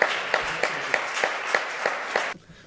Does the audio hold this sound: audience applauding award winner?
yes